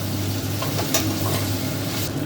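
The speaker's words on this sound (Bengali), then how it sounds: "ভালো করে মাথাগুলোকে ভেজে নিতে হবে" Fish heads frying in an oiled pan for a Bengali muri ghonto, with a dense, continuous close sizzle and a few faint stirring touches, and no voices.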